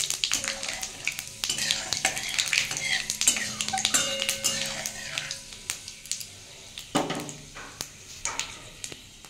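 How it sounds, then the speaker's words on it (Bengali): Dried red chillies and panch phoron crackle as they hit hot oil in a kadai, a steady close sizzle broken by sharp spatters and a few clinks of a spoon against the pan. "আমি এতে দুটো শুকনো লঙ্কা আর একটু পাঁচফোড়ন দেবো।"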